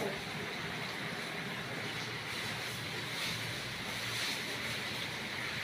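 Strong wind and rain roar as a steady, dense, broadband rush that fills the whole stretch evenly, loud and close with no breaks.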